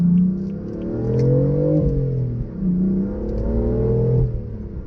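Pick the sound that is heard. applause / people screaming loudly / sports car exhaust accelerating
sports car exhaust accelerating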